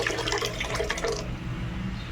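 Water at a rolling boil in a cooking pot for pancit canton, a dense, steady bubbling rush heard close and loud for a couple of seconds before cutting off.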